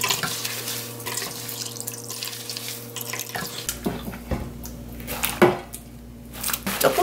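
Hot liquid pressed out of a cooked mash of radish, rice and malt, trickling and splashing steadily into a container for several seconds, with no talking.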